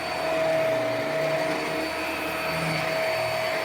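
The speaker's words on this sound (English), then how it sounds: "So I'm trying out this vacuum that I got on Black Friday that I've never used." A Hoover MAXLife Pro Pet Swivel bagless upright vacuum cleaner with HEPA filtration running steadily and loudly, with a constant motor whine and airflow roar from start to finish.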